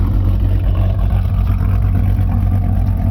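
A modified supercharged V8 in a Mercedes-Benz E55 AMG idles loudly and close, a steady deep rumble with a slightly lumpy cam pulse running through it.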